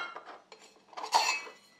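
Camping cookware bowls and pot lids are pulled apart and set down, giving a few light metallic clinks and clatters, close and sparse with no voices over them.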